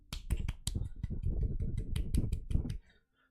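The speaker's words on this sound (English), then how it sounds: "I had to clap because my love was clapping" Quick, crisp hand claps sound in a rapid, steady run, close and fairly quiet, then stop abruptly into silence.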